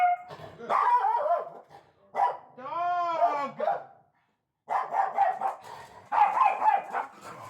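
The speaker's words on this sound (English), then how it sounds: "Dog." A dog barks and yelps in short bursts, with a long drawn whining bark in the middle, close and loud, while people talk nearby.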